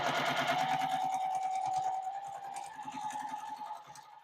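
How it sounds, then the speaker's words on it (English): A sewing machine runs in a fast, steady whirring stitch along a quarter-inch quilt seam, its rapid mechanical rhythm continuing for a few seconds before slowing slightly. "take it to our sewing machine and sew a 1/4 inch seam right down through here."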